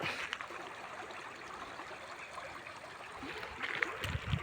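Water from a full irrigation canal flows steadily with a soft, continuous rushing and trickling, fairly faint and without voices.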